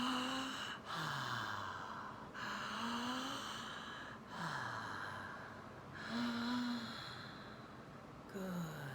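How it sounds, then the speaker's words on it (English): Deep, open-mouthed aha breaths during a breathwork exercise come one after another every couple of seconds, each a long, close, airy exhale with a voiced tone, separated by short pauses. "Notice I'm breathing an aha breath."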